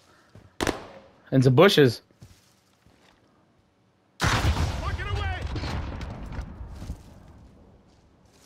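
Rocket launches and explosions in Call of Duty: Modern Warfare, a sharp blast and a short burst, then a long roaring detonation that fades out, with a voice talking between them.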